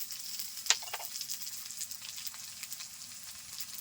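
Crushed garlic and slit green chilies sizzle with onion in a hot pan for a Bengali prawn and taro-leaf dish, a steady close frying hiss with one sharp crackle near the start.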